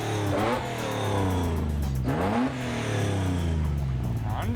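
A carbureted 3-liter six-cylinder car engine revs hard in repeated rising bursts, close and loud, with a throaty sweep up and a drop back between blips.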